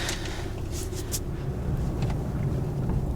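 A steady, deep diesel engine rumble from a moving 2024 RAM 2500 Rebel pickup truck with a Cummins engine, constant and fairly loud throughout with a faint higher whine above.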